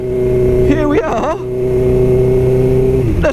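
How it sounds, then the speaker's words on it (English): A Suzuki GSX-R 750 motorcycle's loud exhaust drones at a steady idle, close by, with a brief rev blip near the first second and a voice speaking over it partway through. "this exhaust, as you can hear, is a little bit noisy"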